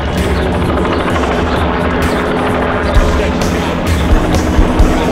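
Helicopter hovering above a street protest march in Richmond, Virginia, giving a steady loud rotor drone throughout with a few sharper thumps on top and no clear speech.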